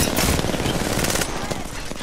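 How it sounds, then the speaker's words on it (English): Dense automatic gunfire in the video game Apex Legends, a loud continuous rattle of rapid shots crowding the whole clip with no pauses. "Bro, they're all shooting at me."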